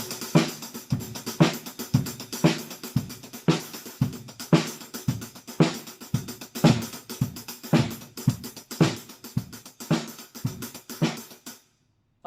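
A drum kit plays a steady, busy sixteenth-note groove with evenly spaced hits and crisp cymbal work, close and alone, then stops abruptly near the end.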